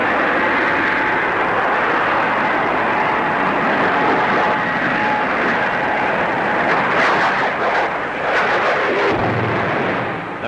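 A de Havilland DH-113 twin-seat night fighter jet flying at Farnborough, a loud, steady roar of jet engine noise that fills the whole stretch, rising into a harsher rush near the end.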